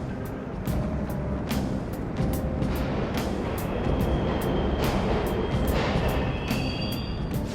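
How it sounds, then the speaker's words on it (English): A steady, loud rumble of a subway train running in the video game Persona 5 Royal, with repeated clicks and rattles over the track and a faint high whine. "The trains are totally running!"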